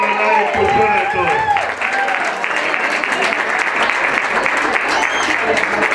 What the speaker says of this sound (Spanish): Así que un aplauso para Natalia.